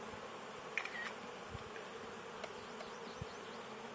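A crowd of honey bees in a package cage, just installed into a new colony, hums in a faint, steady drone with a few light knocks and taps; no speech.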